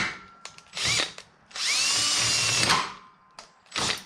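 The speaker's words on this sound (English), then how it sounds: "Can I drill that out?" A power drill bores out a stuck part on a 1940 Ford Tudor, running in three close, loud bursts of differing length that whine up to speed and cut off, with short gaps between.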